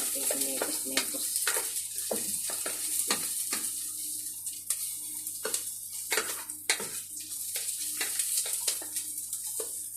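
Tomatoes and ginger powder fry in a pan for chicken tinola, a steady sizzle broken by repeated sharp clinks and scrapes of a utensil stirring against the pan, close and without talk.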